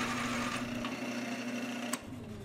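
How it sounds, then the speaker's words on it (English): Wood lathe spinning a turning blank for a hammer-style mallet handle, cut with a carbide-tipped tool with a round cutter, producing a steady motor hum and a continuous scraping whir, then a brief sharp click near the end. "I'm using a carbide tipped turning tool with a round carbide cutter at the end."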